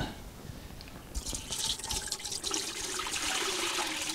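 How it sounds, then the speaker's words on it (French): Hot water runs from a household tap into a container, starting as a low trickle and then rising to a steady, close splashing flow that continues to the end. "Là, c'est de l'eau chaude du robinet."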